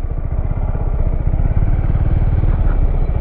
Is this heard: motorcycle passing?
yes